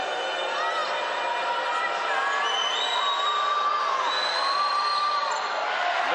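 Home crowd in a basketball arena in Christchurch, New Zealand, roaring and whooping steadily during a free throw, a dense sustained wall of cheering with shrill whistles and shouts rising over it.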